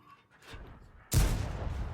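A tank cannon fires in a tank battle video game featuring the T25/2 and T150, one sudden heavy boom with a rumbling tail following a quieter, distant thud just before.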